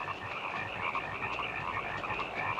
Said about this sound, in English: temporary respite from all the damn croaking going on. These frogs won't shut the fuck up.